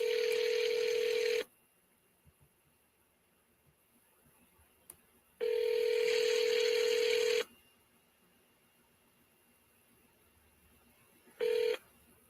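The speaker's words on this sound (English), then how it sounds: "I'm calling Cassandra, I think." Phone call being dialed: a steady single ringback tone in long bursts of about two seconds, separated by silence, with a brief final tone cut short, heard clearly and alone.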